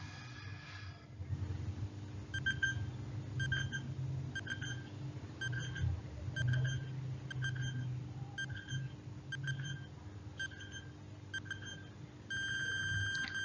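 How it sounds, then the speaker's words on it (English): A quiz countdown timer beeps softly about once per second over a low background hum, with a quicker burst of beeps at the end. "Now, timer"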